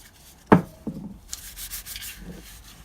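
Brake caliper sliders from a BMW E93 330d being rubbed clean with WD-40 and rags, a sharp scrape followed by a few softer rubbing strokes, close and loud with no talk.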